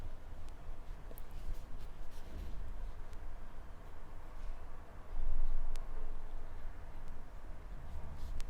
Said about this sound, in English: Now let's write.